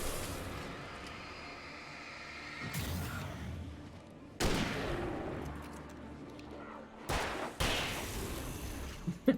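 Flare gun fired in the Alan Wake video game: a few sharp, loud bursts with whooshing bright tails, separated by rumbling, noisy stretches of game sound.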